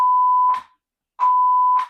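A 1000 hertz test tone from an amplifier setup plays as two steady, clean beeps, each about half a second long, separated by a short silence.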